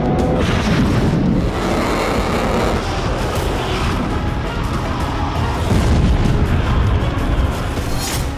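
A heavy bombardment in the Ukraine war fills the air with a dense, continuous rumble of blasts and booms, loud and sustained throughout with no pause.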